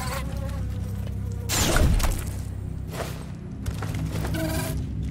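Mosquitoes buzzing in the video game Tails of Iron, a continuous droning whine under game effects, with a sharp crashing whoosh near the middle and a softer swish later.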